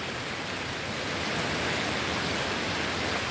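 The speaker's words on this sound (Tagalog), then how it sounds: "grabe lakas ng ulan" Heavy typhoon rain pours down steadily in a dense, even hiss that fills the whole clip, close and constant with no voices.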